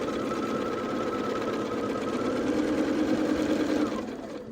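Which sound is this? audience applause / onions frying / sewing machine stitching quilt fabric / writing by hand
sewing machine stitching quilt fabric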